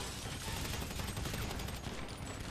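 Continuous gunfire in GTA 5, dense overlapping shots rattling in a busy, loud burst without pause.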